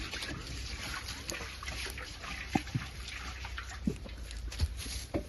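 Water poured lightly into a pot of chicken cooking with masala, a soft continuous trickle with small splashes and faint clinks, quiet and close, with no talking.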